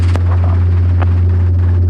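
Robinson R22 helicopter engine and rotor running at an airfield during a flight lesson, a loud steady low drone with a constant hum and occasional faint clicks, no talk.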